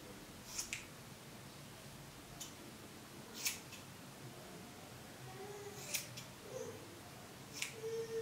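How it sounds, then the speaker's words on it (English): Scissors snip through a combed-out section of hair while cutting it short, giving a few sharp, isolated clicks spaced a couple of seconds apart against a quiet background. "So I'm gonna take my scissors."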